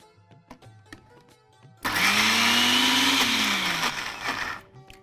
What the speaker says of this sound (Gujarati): હવે આને આપણે ક્રશ કરી લઈશું.